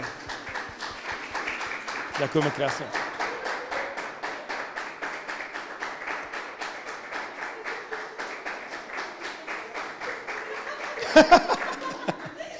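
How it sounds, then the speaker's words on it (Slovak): A workshop audience gives sustained rhythmic applause in steady unison beats, with light laughter near the start and a brief spoken thank-you near the end. "Takže ešte jeden potlesk poprosím pre úžasné dámy z VUBP"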